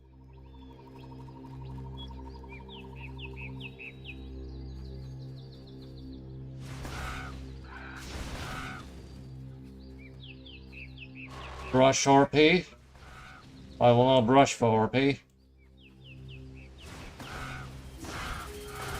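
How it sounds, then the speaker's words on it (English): Crows caw in the video game Titan Quest, harsh, loud bursts in two clusters over a steady tonal game soundtrack, with fainter calls earlier; someone talks between them. "These crows are annoying."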